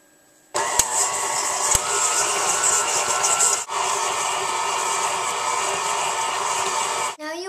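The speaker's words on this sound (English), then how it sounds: "You don't have to use a mixer like I am." An electric mixer beating vanilla bean cupcake batter switches on with a click and runs as a loud, steady whirring hum for several seconds, dips briefly, then cuts off.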